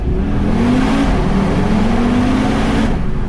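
An Audi TT RS Roadster accelerates hard in first gear inside a tunnel with the window down, a loud, rising engine roar climbing steadily in pitch and echoing close by.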